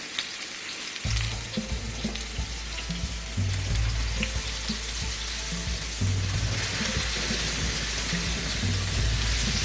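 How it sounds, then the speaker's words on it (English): Fish pieces sizzling steadily in hot oil in a pan on low heat for a tawa fish curry with masala, a continuous close crackling hiss with scattered pops and faint stirring clatter, no talking. "So now we are going to add the fish one by one."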